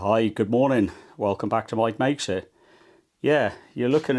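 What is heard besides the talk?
None of the usual background noises is heard.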